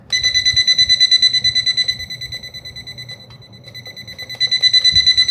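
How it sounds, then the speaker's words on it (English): Digital alarm clock sounding a loud, rapid train of high electronic beeps, close by, dipping quieter midway then returning full strength, with no talk. "That's the sound of the alarm"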